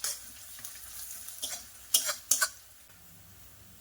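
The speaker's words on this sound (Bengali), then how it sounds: "মশলাটা কষে নেব" A turmeric and chili powder spice paste with chopped ginger is stir-fried in a pan, a quiet low sizzle broken by a few sharp spatula scrapes in the middle.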